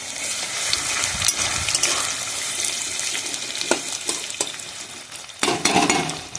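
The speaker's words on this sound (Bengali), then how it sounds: "তেলটা ভালোভাবে গরম হয়ে গেছে, আমি এবারে দিয়ে দেবো পেঁয়াজ" Chopped onions dropped into well-heated oil for a village-style egg biryani, with a steady close sizzle and frying hiss, scattered stirring clatter and a louder burst of sizzling near the end.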